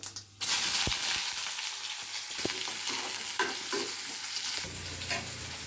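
Oil sizzles in a pan as mustard seeds and chopped onions are added and stirred, a bright continuous close frying hiss with a few clinks and stirring scrapes, no talking.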